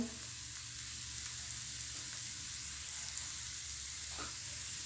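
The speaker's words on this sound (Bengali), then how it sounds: "এখন আমি এই আলুটা দিয়ে দিয়েছি আর এই পেঁয়াজ মরিচের সাথে ভালোভাবে একটু আলুটাকে ভেজে নিচ্ছি" Mashed potatoes frying in a pan with onion and chili, a steady, even sizzle and hiss heard up close with no talk and only a faint stir or two.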